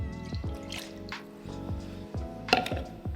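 Homemade chicken stock pours into a soup pot as the liquid base for potato soup, a steady close trickle and splash with a few sharper drips and clinks, no talking.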